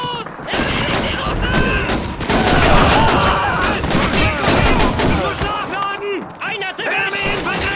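Rapid rifle and machine-gun bursts crack and echo without pause in a Call of Duty 2 battle, loud and dense, with soldiers shouting over the gunfire throughout.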